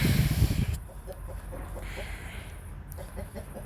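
Soft clucks from a chicken in a crafting video game, a few short bursts in an irregular rhythm. The sound is fairly faint over steady game ambience, with no speech during it.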